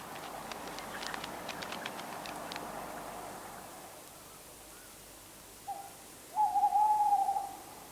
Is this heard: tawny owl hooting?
yes